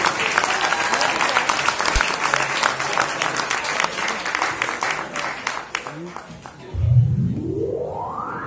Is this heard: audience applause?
yes